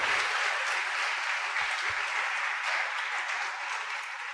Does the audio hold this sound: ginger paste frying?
no